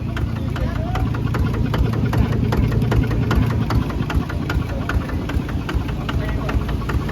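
A ZT155 Plus engine mounted on a farm rice-field vehicle frame runs at a steady idle, a constant mid-to-low chugging rumble with a faint knocking vibration throughout.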